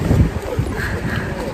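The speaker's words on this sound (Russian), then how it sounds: "Такой вот шквалистый ветер" A gusty squall blows near the sea, buffeting the microphone with low, rumbling wind noise while a person talks over it.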